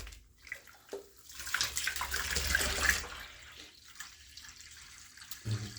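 Dyed yarn being rinsed by hand in a basin of water, soft sloshing and splashing that swells and fades over several seconds, close and fairly quiet with no voices.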